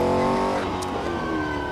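Engine of a 1964 Porsche 904/8 with its small two-liter engine, sustained loud droning tone while driving, pitch shifting slightly mid-way as it eases off, heard from inside the car.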